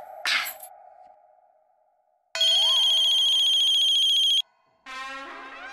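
Telephone in a Hindi TV comedy serial, with short tones followed by a loud electronic ringtone that rings steadily for about two seconds, then a further warbling ring burst after a brief gap.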